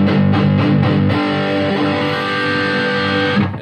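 Electric guitar played through a distortion effect on a Zoom G3 multi-effects pedal, loud crunchy sustained chords with a few strummed hits at the start, then one ringing chord that fades out near the end.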